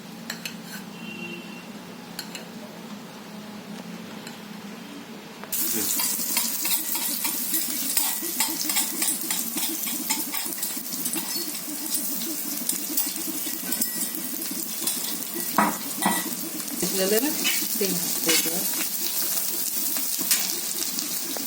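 Crushed garlic and green chili hitting hot oil for a spicy chili thecha, a sudden loud sizzle starting about five seconds in and continuing steadily with stirring clatter, close up, after a quieter stretch of softer kitchen sound.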